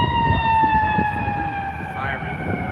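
An emergency vehicle siren outside, a steady wailing tone holding and slowly sliding downward across the whole moment, moderately loud over low background rumble and faint murmuring voices.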